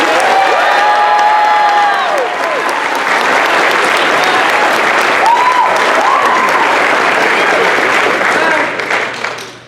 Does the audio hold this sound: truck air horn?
no